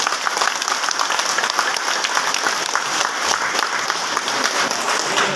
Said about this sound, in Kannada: ಚಪ್ಪಾಳೆ ತಟ್ಟಿ